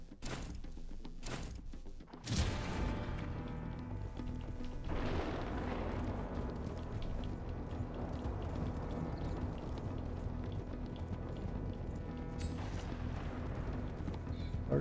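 Horse hooves in Red Dead Redemption 2, a steady close clip-clop rhythm of galloping over continuous game ambience, preceded by a few short thumps at the start.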